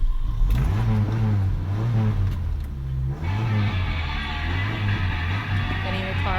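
A car engine rumbles and revs in rising and falling waves as the intro of a song plays, loud and steady with no talk.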